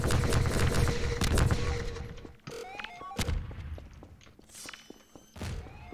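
In the video game Garry's Mod, a flurry of gunfire opens the passage, followed by a sharp explosion, scattered thuds, clatter and footsteps, fairly faint overall.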